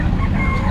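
Clucking chickens in a short, busy burst, several birds close by over a dense low rumble.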